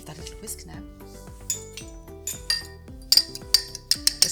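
A whisk clinks and taps against a bowl as an oil-free salad dressing is mixed, starting as soft scraping and building into sharper rhythmic metallic strikes toward the end, with music playing underneath.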